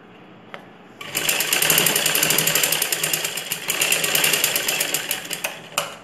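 A domestic sewing machine runs a single continuous seam on a ladies' blouse dart, a steady fast whirring hum that starts after a brief click and holds close and loud for about five seconds.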